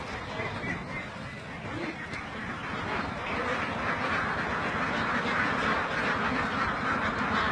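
A crowd of about 2,600 laying ducks quacking continuously on a duck farm, a dense, steady chorus of many birds close by.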